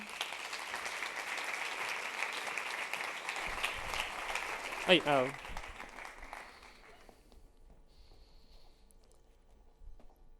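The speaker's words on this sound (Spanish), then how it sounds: "un fuerte aplauso para Rubén Cereijo" Audience applause at a Spanish-language talk about brown fat and obesity, filling the first five seconds and then fading out, with a short voice in the middle and quiet room tone afterward.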